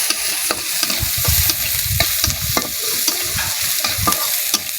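Onions sizzling as they fry in a pan for mashed potato, with steady hissing and frequent scraping stirs of a utensil, close and fairly loud with no voices.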